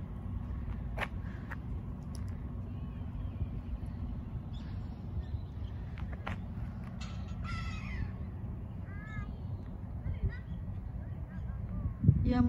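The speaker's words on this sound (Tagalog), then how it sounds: "Ang daming ibon." A large flock of crows caws repeatedly at a portside garden in Futo, Japan, near the sea and a boat landing, with harsh calls scattered throughout over a steady low rumble of ambient noise.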